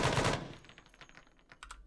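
Automatic gunfire in the military video game ArmA 3: a loud burst at the start that fades away, followed by scattered lighter shots and clicks, with no voices.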